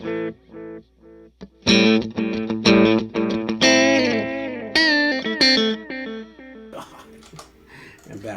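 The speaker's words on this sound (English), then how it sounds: "there's a little bit of spring reverb" Electric guitar playing a mix of single notes and chords with a wet, splashy spring reverb trailing each phrase, clear and close.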